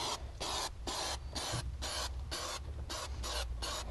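Adhesive sprayed in repeated short bursts onto the wheel hump of a classic VW Beetle during headliner and interior work, a loud close hiss pulsing on and off about seven times with brief gaps between.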